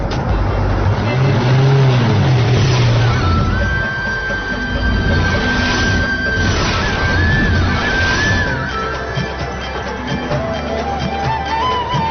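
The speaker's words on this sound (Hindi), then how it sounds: "गाड़ी तेज चलाओ" A car speeds along a road with a loud, continuous engine roar and rising whine, steady throughout with no pause, heard up close.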